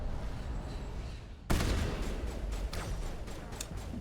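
Sniper gunfire in a video game on Insanity difficulty: a sudden loud crack, then a sustained noisy rumble with several sharp shots spaced through it.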